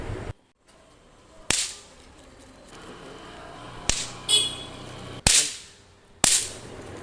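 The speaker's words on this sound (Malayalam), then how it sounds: "പോപ്പ്, പേപ്പർ പോപ്പ് ഷോട്ട് എന്ന് പറഞ്ഞിട്ടുള്ളത്, എറിഞ്ഞു പൊട്ടിക്കുന്നത്." Paper pop shot firecrackers thrown to the ground, four sharp loud cracks spaced a second or so apart, each with a short decaying tail over quiet outdoor background.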